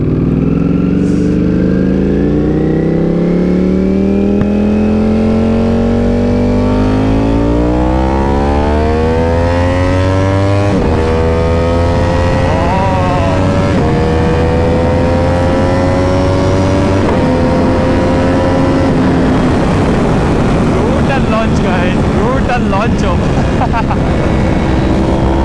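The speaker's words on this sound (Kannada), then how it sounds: "ಪನ್ನಿಗಾಲೆ V4S with super leisure kit, most loaded Ducati. Let's go." A Ducati Panigale V4S with the Superleggera kit revs loud and close while being ridden, its engine note climbing steadily through the gears with brief dips at shifts, continuous throughout.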